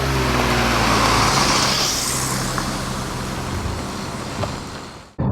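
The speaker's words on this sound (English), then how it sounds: "let's go and drive it" A Dacia Duster Extreme SE out on an open road, with steady engine drone and broadband tyre and road roar heard from inside the moving car, loud and continuous, fading at the end.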